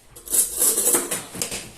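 A dessert spoon scooping fine salt into a one-kilogram jar, a brief burst of gritty scraping and clinking, close and fairly loud, lasting under two seconds.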